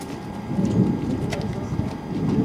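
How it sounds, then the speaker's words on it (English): Low rumbling thunder rolls from a distant thunderstorm in January 1992, a soft continuous grumble under light rain and wind outdoors. "You hear the thunder."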